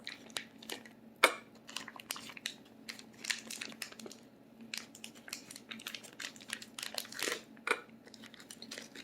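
A plastic meal kit packet from a Green Chef barbecue pork cheeseburger kit crinkles and crunches in quick, irregular bursts while someone struggles to pull it open by hand, close and fairly loud with no talking.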